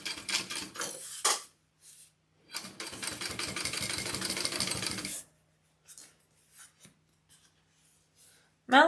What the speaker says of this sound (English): we're going to top stitch through the top band right up there with our seam allowance going down.